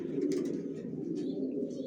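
Racing pigeons of a Janssen line coo softly and continuously in a loft, a low, rolling murmur with no other sounds.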